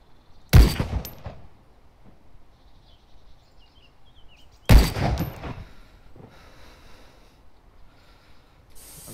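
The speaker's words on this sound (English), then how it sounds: "Oh, I'm getting shot at, yeah." Gunfire in an online shooter game set around Cherno: two sharp, loud shots about four seconds apart, each trailing off into a brief echo over a quiet background.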